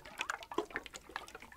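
Coconut water sloshes and drips softly in a container, a few small liquid splashes and trickles over a second or two, close and quiet in an intimate setting.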